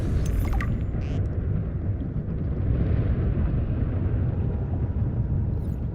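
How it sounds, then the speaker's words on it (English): A meteor storm in the underwater survival game Subnautica: Below Zero, heard as a continuous deep rumbling roar with muffled booms, loud and steady throughout and with no one talking. "Are there explosions?"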